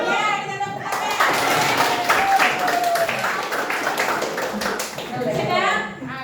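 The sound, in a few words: children clapping hands together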